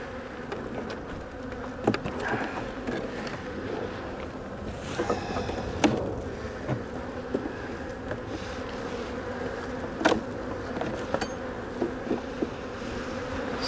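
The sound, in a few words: honeybees buzzing in a small hive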